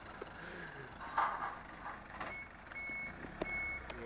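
A lorry reverses at a residential gate in Malaysia, its reversing alarm sounding as repeated steady beeps over low engine rumble and street background.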